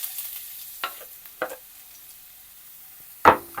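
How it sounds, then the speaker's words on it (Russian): Strips of ginger frying in hot oil in a pan, with a faint steady sizzle broken by a few sharp scraping and stirring clatters, the loudest near the end. "Масло разогрелось, отправляем соломочкой имбирь. Обжариваем."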